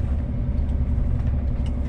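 A truck grinds along a rough dirt road through deep sand in first gear with locked differential, its engine giving off a heavy, continuous low rumble close by.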